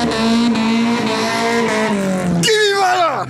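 An Audi TT 2.0 turbo and an Opel Corsa A 1.6 16V race side by side on a drag strip. One engine revs loudly and climbs through the gears, then a sharp shift leads into a high, rising pass-by whine.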